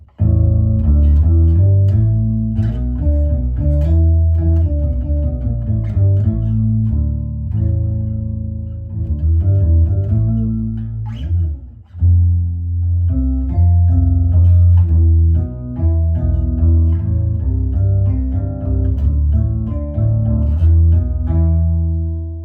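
Electric guitar through a POG octave pedal playing chords and single notes with a thick, doubled low-octave tone, loud and continuous, with a brief dip near the middle.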